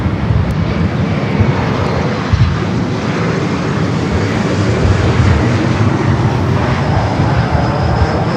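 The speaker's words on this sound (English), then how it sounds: "Virgin Flight 8 heading back to London Heathrow at A350 1000" An Airbus A350-1000 jet airliner on Virgin Flight 8 at LAX airport roars close and loud with a dense, constant engine rumble and rush that stays steady throughout.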